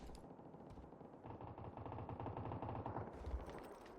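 Gunfire in the PUBG video game, a dense stream of rapid automatic shots with some heavier bangs, fairly faint and continuous throughout, no voices.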